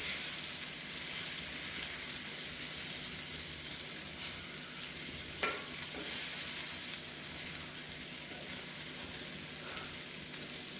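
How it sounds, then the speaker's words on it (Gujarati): Peanuts roasting in an iron pan over a low gas flame give a steady, soft sizzle, with a faint scrape or two of stirring partway through. "સિંગને ધીમા ગેસે થોડોક ટાઈમ સુધી ચોળવીશું"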